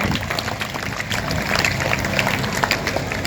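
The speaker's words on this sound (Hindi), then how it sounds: "सब तालियां बजा करके अभिनंदन करेंगे।" An audience at an Arya Samaj conference in Haryana applauds, a dense, steady patter of many hands clapping that continues throughout at moderate loudness.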